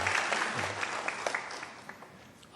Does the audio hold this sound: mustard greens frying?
no